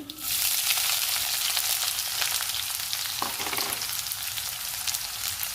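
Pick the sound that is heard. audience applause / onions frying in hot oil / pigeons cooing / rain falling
onions frying in hot oil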